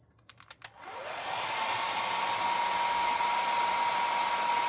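A few quick clicks, then a hair dryer whirs up and keeps blowing with a steady, close airy roar and faint high whine, powered by a TATALIKEN 4000W inverter under repair.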